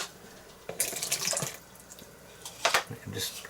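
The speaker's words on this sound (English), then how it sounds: "I'm just cleaning up my water here" A paint brush is rinsed and swished in a water container, producing irregular splashing and sloshing bursts at close range, with brief pauses between them.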